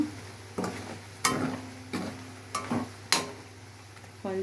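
A spoon stirs chicken pickle in oil, giving about six sharp scraping clacks against the pan at uneven intervals over a low steady hum, close and alone.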